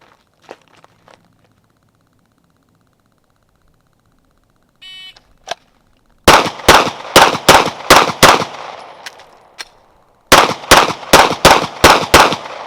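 A shooting drill with a G45 pistol and an AR15 rifle: after quiet handling clicks, a burst of loud rapid shots, a pause for a slide-lock reload, then another rapid string of sharp reports, close up with no talking.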